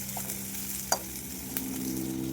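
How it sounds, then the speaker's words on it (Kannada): Garlic and onion fry in oil in a pan, a soft steady sizzle with a couple of sharp utensil clinks, close but fairly quiet. "ಬೆಳ್ಳುಳ್ಳಿ ಮತ್ತು ಈರುಳ್ಳಿನ ಸೇರಿಸ್ಬಿಟ್ಟು ಅದನ್ನು ಎಣ್ಣೆಯಲ್ಲಿ ಸ್ವಲ್ಪ ಫ್ರೈ ಮಾಡಬೇಕು"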